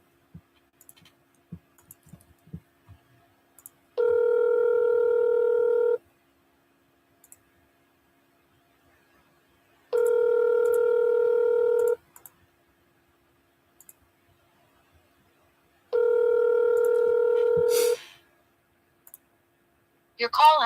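Outgoing phone call ringing out: three long electronic ring tones at regular intervals with quiet gaps between, preceded by faint clicks and ending in a brief burst of sound.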